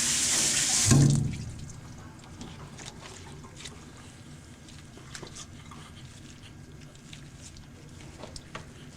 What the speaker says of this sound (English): we're going to rinse the soap off on it